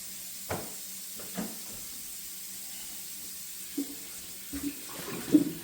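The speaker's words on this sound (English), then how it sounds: "So we're gonna go ahead and rinse the meat off." Cold tap water runs into a kitchen sink while a brisket is rinsed under it, a steady low hiss broken by a few soft splashes and knocks, close by and quiet.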